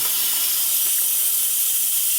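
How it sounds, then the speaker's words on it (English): Steam hisses steadily out of an Instant Pot pressure cooker's release valve while it cooks a beef roast with tiny gold potatoes, a loud, even, close rush of spray lasting the whole moment with no voices. "That had a lot of steam in it."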